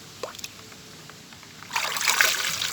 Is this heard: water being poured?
yes